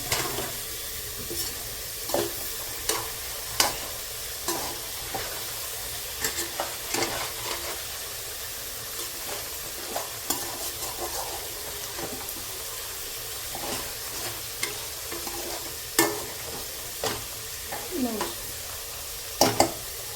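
Taro (arbi) roasts in a pan under a continuous soft sizzle, with regular scraping clicks from a spoon stirring it every second or two over a long stretch, fairly close and with no talking.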